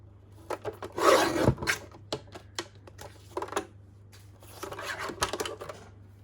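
Scissors snip and rasp through paper to trim off a branding strip, with close, irregular cutting and rustling sounds, a louder crinkle early on and a softer run of snips later; no talking.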